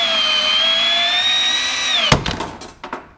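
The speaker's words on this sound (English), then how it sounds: "But this is 2-inch pipe. It's the biggest this thing can cut." A Milwaukee M12 PVC shear whines steadily through 2-inch pipe, its motor pitch dropping near the end before a burst of sharp cracking snaps as the cut finishes, close and loud with no talk.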